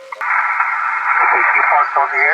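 Amateur radio receiver at a Field Day station, putting out a steady band-limited hiss and tone with a distorted voice coming through the speaker.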